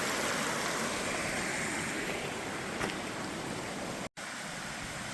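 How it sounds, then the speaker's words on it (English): Water cascading in a sheet over rock at a waterfall on the Double Run Trail, a constant close rushing hiss with a brief dropout near the end. "love the sheet of water flowing over the rock"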